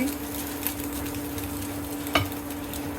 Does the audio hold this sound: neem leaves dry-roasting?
yes